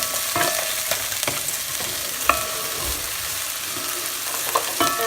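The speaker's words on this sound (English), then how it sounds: "Okay, so we'll let them fry for a minute or so. You have to keep on stirring." Vegetables for a vegan minestrone fry in a pot while being stirred, an even close sizzle punctuated by repeated spoon knocks and scrapes, no voices.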